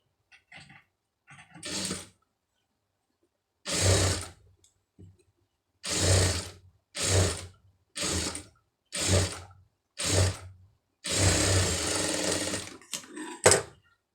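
A tailoring sewing machine stitches two pieces of cloth together, running in about eight short bursts of rapid mechanical whirring separated by pauses, loud and close, with no talk.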